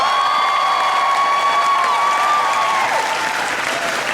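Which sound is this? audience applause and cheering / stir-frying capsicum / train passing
audience applause and cheering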